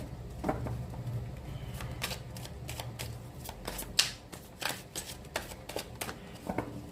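Tarot-style cards being shuffled and drawn for a reading: a close, crisp series of riffling flicks and slaps in an irregular rhythm, with no talking.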